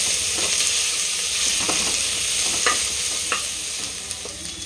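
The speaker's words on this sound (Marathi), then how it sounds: "हा जो लसूण आहे खलबत्त्यात ठेचलेला, हा मस्तपैकी घालून घ्यायचा असं आणि हे मिश्रण छान परतवायचं" Crushed garlic sizzles and fries in a pan while being stirred for prawn rice, a steady close hiss broken by a few scraping stirs of a spoon, with no voices.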